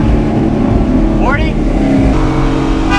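A Ford 5.0 Gen 2 Coyote with E85 intake tune and long tube headers accelerates hard, loud and continuous engine roar with rising harmonics, while voices talk over it.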